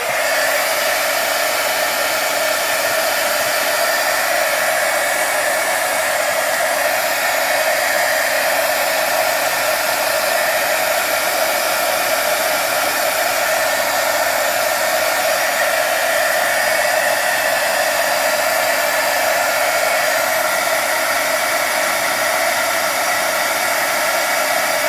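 A heat tool blows steadily as embossing powder is melted onto a chipboard booklet cover, giving a loud, unbroken whoosh that runs from start to finish.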